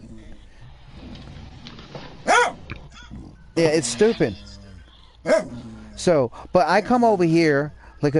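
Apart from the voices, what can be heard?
pet dog whimpering and growling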